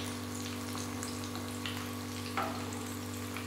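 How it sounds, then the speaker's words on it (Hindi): Methi vada (fenugreek fritters) fry in hot oil over a medium flame, giving a steady, even sizzle with faint bubbling pops and a low background hum throughout. "ये ऑयल में सिकने लगे हैं बड़े"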